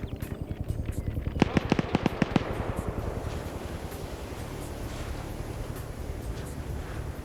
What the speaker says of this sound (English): OFCRA otherwise popping grenades around that wreck